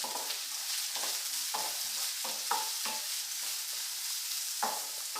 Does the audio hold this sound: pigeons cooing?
no